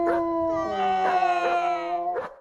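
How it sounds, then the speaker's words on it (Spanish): A dog howls in a long, wavering, tonal cry lasting about two seconds, close and clear, ending with a short yelping break and then quiet. "Los perros se pusieron a ladrar y a aullar."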